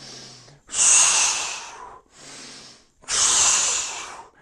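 Two sharp, loud nasal inhales alternate with quieter exhales in a steady rhythm, close up, as someone breathes through a resistance band back exercise.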